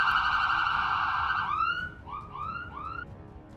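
Ambulance siren in a Roblox game: a steady loud electronic tone that shifts into repeated rising whoops, three or four sweeps, close and alone.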